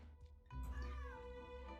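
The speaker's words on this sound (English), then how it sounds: "There's the cat again!" A cat meows in the Genshin Impact video game, one drawn-out, wavering meow rising after a short low rumble, heard clearly over a soft game background.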